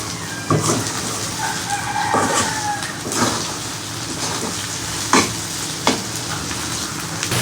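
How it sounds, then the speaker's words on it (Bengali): Chicken pieces fry with red chillies in a pan, a close, continuous sizzle broken every second or so by sharp scrapes and knocks of a spatula against the metal; no one talks. "কত সুন্দর করে একদম ভুনা ভুনা ভাজা ভাজা করে ফেলেছি"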